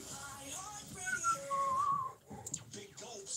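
A person attempting to whistle produces a thin, wavering tone that rises and falls for about a second, surrounded by voices and other background sound.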